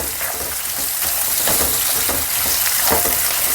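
Onion and green chilli frying in a pan, a steady close sizzle with soft periodic stirring scrapes every second or so, no voices.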